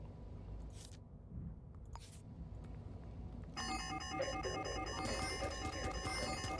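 A video game alarm in Shadows of Doubt starts up after a few clicks, then rings on steadily as a loud, rapid electronic pulsing tone over low background noise.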